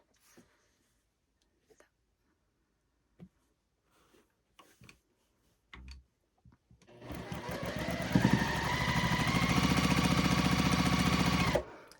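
Sewing machine chain piecing quilt pieces: after a few faint handling taps, the machine starts up and runs steadily and loudly at close range for about five seconds, a fast even stitching whir.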